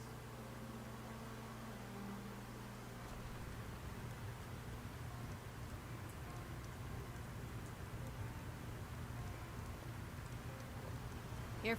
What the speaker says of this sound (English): We're going to get out of the rain right now.